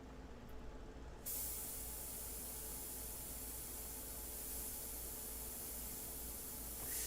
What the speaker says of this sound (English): That's the beauty of this airbrush.